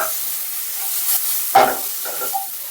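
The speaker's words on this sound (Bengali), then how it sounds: "এরপর দিব অল্প পরিমাণ লবণ একটু অল্প লবণ দেব আর একটু অল্প হলুদ খুব সুন্দর করে ভেজে দেবো ঢেঁড়সটা" Okra frying in a pan with a little salt and turmeric gives a steady close sizzle and hiss, with a couple of brief stirring scrapes partway through and no talking.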